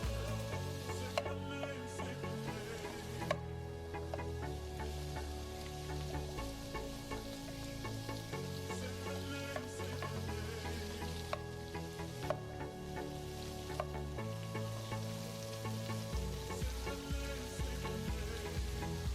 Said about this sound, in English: And I'm gonna return it to the heat, and I'm going to add our shrimp.